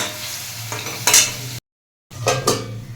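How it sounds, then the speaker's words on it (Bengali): Fried lentil dumplings (bori) tip into a pan of vegetables with drumstick flowers, making clattering, stirring scrapes over a sizzle. The sound breaks off for a moment, then resumes with more scraping. No one speaks. "জল দিয়ে দিচ্ছি ভেজে রাখা বড়িটা এবারে ঢেলে দিলাম"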